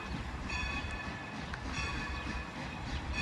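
Strasburg Rail Road engine number 90 passing with the 1 p.m. train, a steady, loud rumble of wheels and running gear with a faint bell-like ring above, continuous and close throughout.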